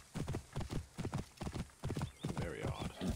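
Horses clip-clop in Assassin's Creed Origins, a rapid steady clatter of hooves close by, with a horse whinnying partway through.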